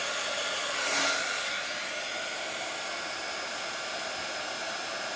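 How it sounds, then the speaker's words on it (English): A heat gun blows steadily on hot resin for a cheese board, a constant close broadband hiss that swells briefly near the start and then holds level to the end, with no talking. "And then we're going to go back in with our heat gun."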